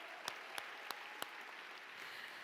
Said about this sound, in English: of applause for Tukta.